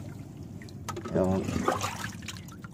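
Water being scooped and poured out of a leaking wooden bangka during a prawn-trapping trip, splashing and trickling close by, with people talking over it.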